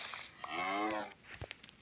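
A Minecraft cow lets out one drawn-out moo, followed by a few soft clicks and taps from the game.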